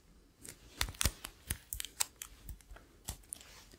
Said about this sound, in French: je vais venir mettre de quoi tenir tout ça, un petit peu de scotch